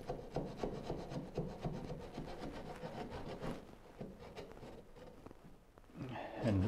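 A hand saw rasps through wood in steady back-and-forth strokes, close and continuous, with no voices.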